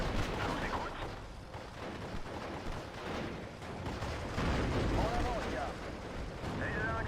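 Gunfire in the World War II strategy game Steel Division: Normandy 44, with infantry shooting at enemy troops; the battle rumbles as a continuous, dense wash of shots and distant blasts across the whole stretch.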